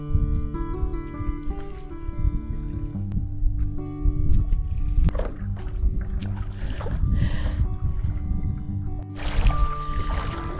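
A kayak is paddled across Shark Bay in Francois Peron National Park with an outgoing tide and following wind; steady watery paddle sounds run throughout under a dense, constant tonal backdrop.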